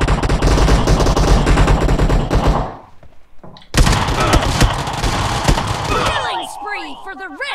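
A small gun firing in PUBG Mobile team deathmatch war mode: loud, dense rapid bursts of shots, a brief lull, then another long stretch of close, heavy gunfire.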